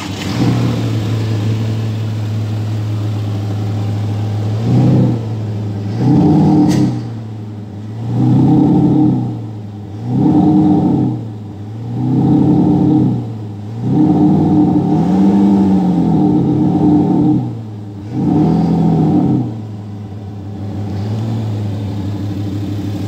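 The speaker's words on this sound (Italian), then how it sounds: "Quindi adesso Mirko vi farà sentire il sound booster e che tipo di risultato è venuto fuori." A Porsche Cayenne diesel SUV fitted with an exhaust sound booster idles steadily while it's revved about six times, each rise swelling into a booming exhaust tone before settling back; loud and close.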